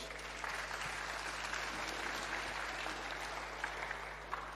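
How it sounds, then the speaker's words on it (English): A closing-ceremony audience gives a round of applause for a speaker, a steady, moderately faint wash of clapping that carries on evenly with no voices over it. "Round of applause for Dara Singh."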